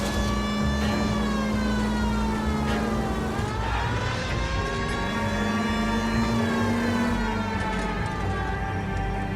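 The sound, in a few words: police car sirens in a video game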